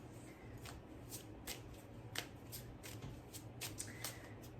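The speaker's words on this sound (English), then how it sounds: "I'm gonna pull an Oracle card." Tarot and oracle cards shuffled by hand, a soft riffle and slide with repeated light flicks and snaps of cards that keep going throughout, faint and close, with no talking.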